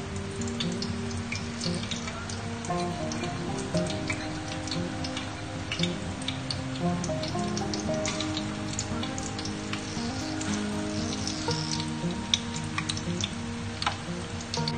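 Perkedel, round potato fritters coated in egg, sizzle in hot oil with a steady, fine crackle and scattered pops under gentle background music.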